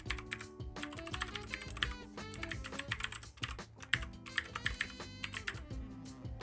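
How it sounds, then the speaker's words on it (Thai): Thai text being typed on an iPad: a quick, steady patter of close keystrokes with small pauses, heard alone without any speech. "แล้วก็พิมพ์ข้อความที่เป็นภาษาไทยเข้าไปนะครับ"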